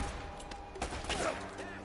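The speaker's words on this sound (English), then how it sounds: "I'm gonna shoot this guy right here." Gunfire in the Uncharted video game, a quick burst of shots rising over a dense, noisy firefight that continues steadily throughout.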